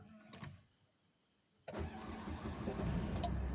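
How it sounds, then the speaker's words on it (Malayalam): A Nissan car engine with a freshly rebuilt motor cranks after a quiet moment, catches abruptly and settles into a steady close idle, with no talking. "നമ്മുടെ വണ്ടി സ്റ്റാർട്ടായിട്ടുണ്ട്"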